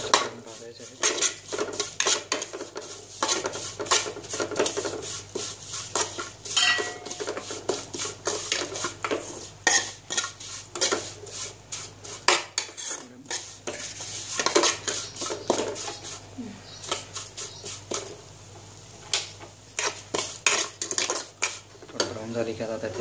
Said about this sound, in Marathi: शेवया भाजून घ्यायच्या आहेत, त्याही आपण तुपामध्ये ब्राऊन करून भाजायचे आहेत